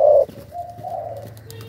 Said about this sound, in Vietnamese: Con này nước gù này siêu gù luôn.